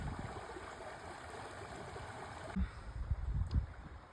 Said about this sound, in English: the stream is going over the rocks and creating a little bit of a waterfall